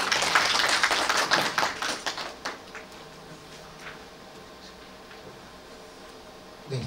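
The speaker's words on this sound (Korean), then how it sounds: "다시 한번 박수 부탁드립니다" Audience applause following a presentation at a corporate ESG capacity-building forum, a dense burst of clapping that starts loud and thins out over a few seconds, leaving a quiet hall.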